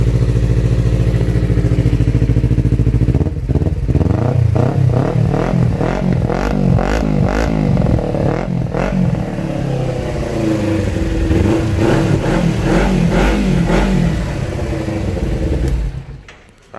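A 2013 Kawasaki Ninja 250 with a 300-style body and parallel-twin engine fitted with an Akrapovic exhaust idles, then is blipped through a series of sharp, rhythmic revs up and down, loud and close throughout before cutting off at the end.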